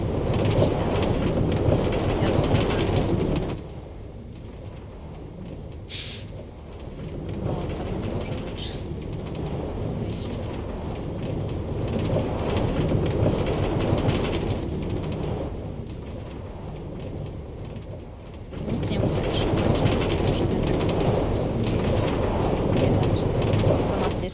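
A roller coaster cart runs along its rails with a constant loud rumbling roar. The sound is heaviest at the start and end and eases to a lower rush in the middle.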